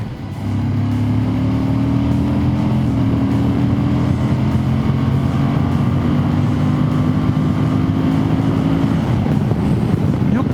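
Suzuki V-Strom 1050DE adventure motorcycle with a 1037cc V-twin engine, ridden at low speed: a steady, loud low engine drone with sustained harmonic tones, wind rumble over the microphone, and no voices.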